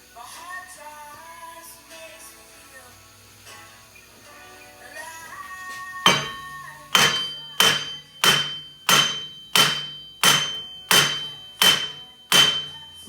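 Steel hammer blows strike the rear hub assembly of a 2009-2017 Dodge Journey AWD during wheel bearing replacement, about eight sharp metallic hits at a steady rhythm, close and loud, after quieter clinking and handling sounds.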